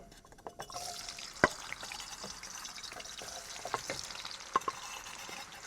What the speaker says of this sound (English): Splashing oil everywhere.